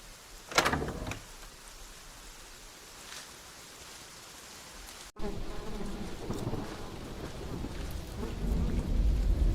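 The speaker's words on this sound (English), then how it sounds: "It must be hard to catch my scent in this rain." Video game rain hisses steadily throughout, with a sharp crack of thunder early on and a deeper rumble building toward the end.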